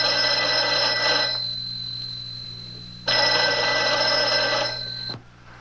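A telephone bell rings in two loud, close bursts of about a second and a half each, separated by a silent gap, with no talk.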